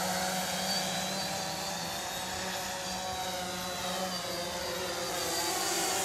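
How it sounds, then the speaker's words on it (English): A Cheerson CX-22 quadcopter drones steadily outdoors during takeoff and flight, a soft, continuous buzzing whir of its propellers with no talk and no pauses. "We arm the quadcopter, it's already home, and take off in altitude hold."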